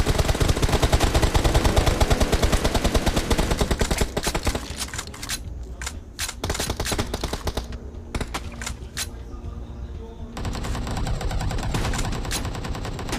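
Rapid video game gunfire in an infection-mode shooter match, loud bursts of automatic fire chattering almost continuously, with brief pauses between volleys and no speech over it.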